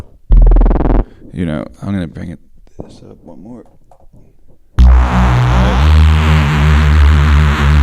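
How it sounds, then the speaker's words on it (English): A drum and bass style synth played through MIDI in FL Studio bursts in loud and dense with a heavy low end after several seconds of someone talking, preceded by a brief loud synth hit near the start. "So if you want to do like drum and bass sounding synth, it might be a little loud"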